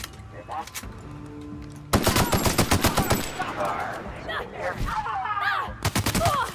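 Gunfire in the video game The Outer Worlds, sharp rapid bursts that start abruptly after a quieter stretch and repeat in quick clusters, close and loud, with talking mixed in.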